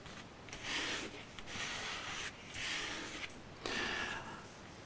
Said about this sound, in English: Hold it there and press that crease in.